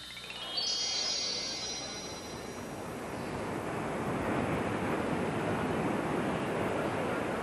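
Sea waves rolling in, a steady broadband wash of surf with wind noise on the microphone, continuous and fairly loud throughout with a brief high whistling tone near the start.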